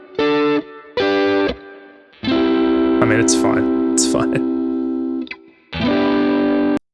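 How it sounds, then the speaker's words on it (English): Guitar chords heard through distortion, chorus and echo effects in an AI-generated track, a few short stabs followed by a long sustained chord and a final strum, with someone speaking briefly over the middle. "Okay, so that's the sound of the chords."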